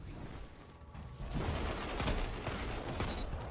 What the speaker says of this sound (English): That was a beautiful grenade.